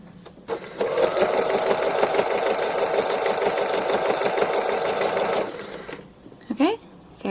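Sewing machine stitching free motion embroidery of a cow design, a loud rapid continuous whir of about five seconds, then stopping, followed by a short voice.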